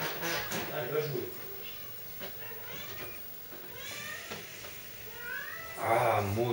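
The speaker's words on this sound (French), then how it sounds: "Il y aura un petit peu de musique de chat comme ça" A cat in a home setting lets out several meows, some drawn-out and rising, mixed with a person talking and background game sounds, with a louder yowl near the end.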